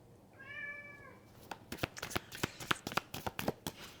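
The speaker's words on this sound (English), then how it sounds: "cat's in" A house cat gives one clear, drawn-out meow close by, followed by a burst of crisp rustling and shuffling of tarot cards.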